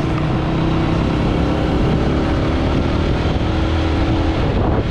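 A car drives in along a street in Cilejit, its steady engine rumble close and continuous, mixed with wind buffeting the microphone throughout.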